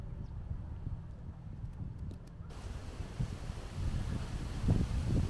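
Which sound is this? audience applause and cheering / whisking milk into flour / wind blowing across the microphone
wind blowing across the microphone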